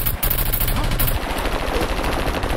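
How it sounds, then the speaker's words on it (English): A rapid-fire pistol in the SCUM video game fires a quick burst of shots, loud and close, cracks coming in a fast stuttering rhythm for a couple of seconds. "Rapid fire pistol."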